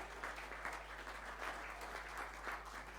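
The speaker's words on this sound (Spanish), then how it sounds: "Un fuerte aplauso para nuestras queridas mamás" A church congregation applauds the mothers in a steady, faint wash of clapping that runs evenly throughout, with a low hum beneath.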